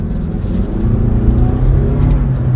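A 2021 Toyota RAV4 Prime plug-in hybrid SUV accelerating, its gas engine drone steadily building, heard as a continuous loud low hum from inside the cabin.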